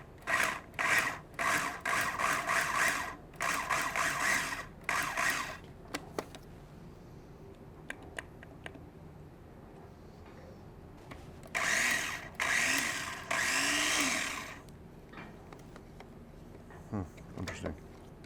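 A food processor pulses tartar sauce ingredients in short, loud whirring bursts, a quick run of choppy pulses followed by a longer spin after a quiet pause.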